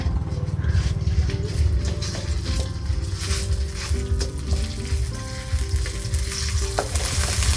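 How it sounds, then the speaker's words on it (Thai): Red curry paste is stir-fried in about two tablespoons of oil over medium heat, sizzling loudly and continuously, with spatula scrapes and stirring close up and no talking. "ตามด้วยพริกแกงนะคะ ลงไปผัดได้เลยค่ะ ใช้ไฟกลางนะคะ"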